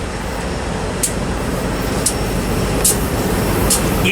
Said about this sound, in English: this grain train was unbelievable